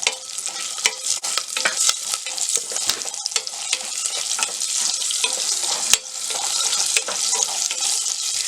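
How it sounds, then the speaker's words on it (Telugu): Dried red chillies fry in a pan with a loud, dense crackling sizzle, steady throughout and punctuated by sharp clicks and scrapes from stirring. "ఒక 4 ఎండుమిర్చి కూడా వేసుకొని ఫ్రై చేసుకోవాలి."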